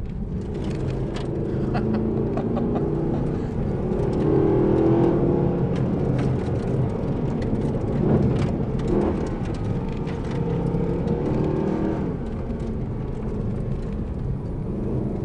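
Mercedes-AMG SLS Black Series engine pulling hard on throttle, a loud, continuous close-up roar that swells and eases over the run, with wind and road noise mixed in.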